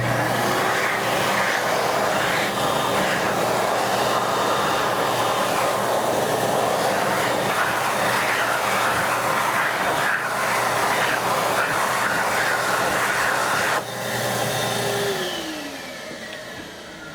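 A hand dryer blows loudly and steadily as hands are dried, a constant close roar that cuts off near the end and leaves a softer fading whir.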